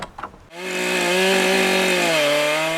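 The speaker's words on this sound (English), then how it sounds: "That's a proper chainsaw that you'd use for felling trees." A big-bar forestry chainsaw roars to life after a brief rattle and runs steadily at high revs in the woods, loud and close, its engine pitch dipping slightly near the end.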